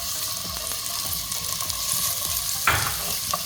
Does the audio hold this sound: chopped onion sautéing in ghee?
yes